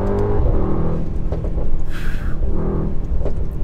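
A Mercedes-AMG GT63s engine rises in a short burst of revs as it downshifts, heard from inside the car as a loud, throaty drone with a brief rising surge.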